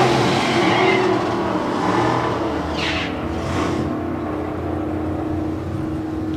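A supercharged Willys drag racing car makes a run down the strip, a loud, roaring engine with a couple of surges, heard steadily at close to middle distance.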